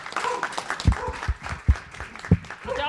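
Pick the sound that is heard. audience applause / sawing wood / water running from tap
audience applause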